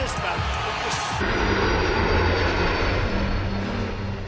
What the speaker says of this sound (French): Le Boeing 757 de Trump est tout aussi puissant que l'Air Force One du président, et encore plus luxueux